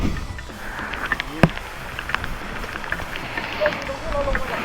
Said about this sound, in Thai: พักรถได้แป๊บเดียวฝนก็ ตกแล้ว